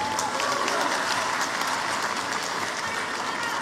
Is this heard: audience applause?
yes